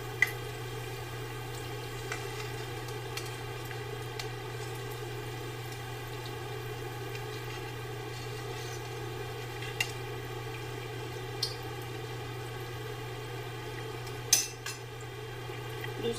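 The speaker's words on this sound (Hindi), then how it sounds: "दूसरी साइड से भी फ्राई कर लेंगे।" Potato sandwiches fry on their second side in a pan, giving a soft, steady sizzle with a few scattered ticks and pops over a constant low hum.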